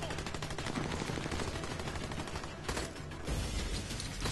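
Sustained gunfire in the video game Army of Two: The Devil's Cartel, rapid machine-gun bursts crackling almost continuously, loud and close, with a brief lull before the shooting resumes.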